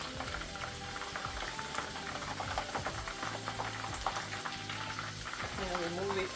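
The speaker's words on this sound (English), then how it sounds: "I'm going to remove it from my frying oil." Chicken pieces for chicken Manchurian deep-fry in hot oil, a steady close crackling sizzle with bubbling that continues throughout, with a voice briefly audible near the end.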